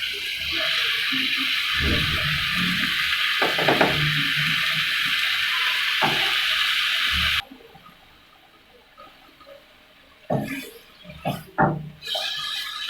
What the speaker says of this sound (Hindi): आप देख सकते हैं कि मैं इसको फ्राई कर रही हूँ।